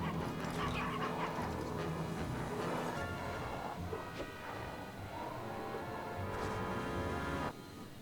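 Small dogs yipping, barking and whimpering upstairs, a run of short, fairly faint barks and whines scattered over several seconds with a brief crash near the end.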